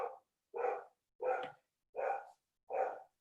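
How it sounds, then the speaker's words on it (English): A dog barks five times at an even, unhurried pace, each bark distinct and separated by silence, fairly faint as if from another room in the background. "Somebody seems to have a dog going in the background."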